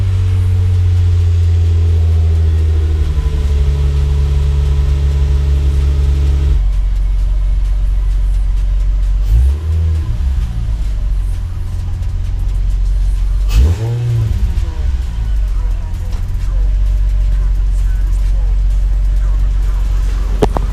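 An Infiniti G35 Coupe engine fires up after a new plenum and 5/8 plenum spacer install, settling into a loud, steady idle rumble with a couple of sharp revs partway through.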